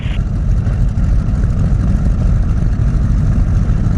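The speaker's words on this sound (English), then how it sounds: "Let it idle for about 30 seconds before you bring the prop forward." Loud, close, steady low drone of a Cessna 195 radial engine idling on the ground, an even throbbing rumble with no change in pitch across the few seconds.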